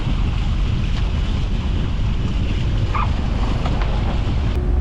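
Steady loud rumble of a boat's engines running at 2800 rpm near Hao Atoll in the Tuamotus, mixed with wind buffeting the microphone, continuous throughout.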